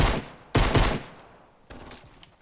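Loud bursts of rapid gunfire in Fortnite Battle Royale squad play, a long volley followed by a second burst and a quieter, more distant string of shots.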